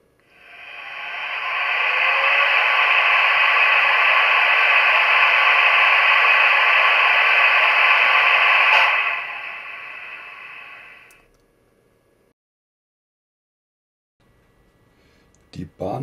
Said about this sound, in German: Das Betätigen der Lüfter.